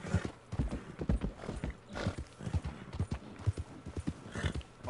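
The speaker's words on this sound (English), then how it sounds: "literally the best horse in the game" A horse in Red Dead Redemption II trots on steadily, hooves clip-clopping in a quick even rhythm at moderate distance, with no talking over it.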